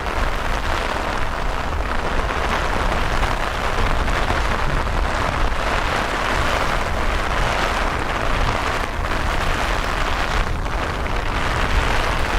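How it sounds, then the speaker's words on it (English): Heavy, sudden rain shower pours steadily at Dublin Airport, a loud dense hiss of drops drumming on surfaces throughout with no pause and no talking. "You can hear it yourselves there, how heavy the rain is all of a sudden."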